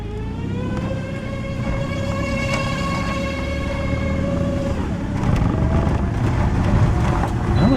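A 2011 Toyota RAV4 with a failing transmission drives along, engine and drivetrain whine rising steadily in pitch through first gear and shifting into second, a continuous close interior drone that grows slightly louder toward the end.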